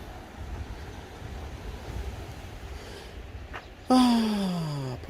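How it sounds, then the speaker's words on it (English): Mediterranean Sea waves wash in a steady, windy surf roar along the shore, and a loud falling tonal sound breaks in near the end. "let's listen to the waves"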